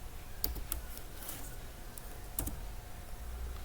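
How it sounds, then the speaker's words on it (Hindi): Typing on a computer keyboard while entering line formats in Microsoft Word, a few faint, sparse key clicks over a quiet room hiss. "अगर हम स्टार 3 बार टाइप करके एंटर करेंगे तो इस टाइप का लाइन फॉर्मेट आ जाएगा।"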